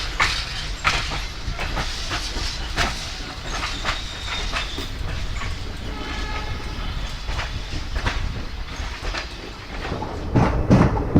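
The Ranikhet Corbett Park Link Express rolls along on the Jaipur–Jaisalmer route, a loud close rumble with repeated clickety-clack wheel beats on rail joints and some hiss, running without a break.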